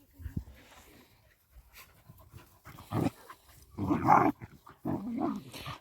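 Two dogs play inside a car, panting, growling and snuffling in irregular bursts at close range, with brief yips between quieter moments.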